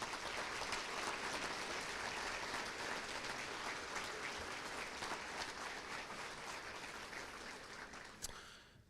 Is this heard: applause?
yes